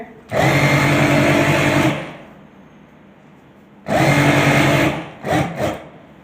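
An electric sewing machine stitches a trouser seam in two loud whirring bursts of about one and a half seconds each, separated by a quiet pause, followed by a couple of short stitching spurts.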